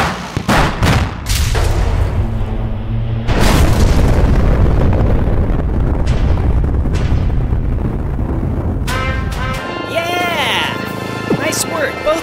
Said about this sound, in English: We gotta shoot out these support beams.